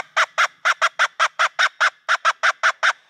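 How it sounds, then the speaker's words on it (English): A raspy reed-style bellows squirrel call sounds about fifteen short, harsh chattering barks in a quick, slightly uneven rhythm, loud and close with nothing else heard. "It's got that raspy sound to it."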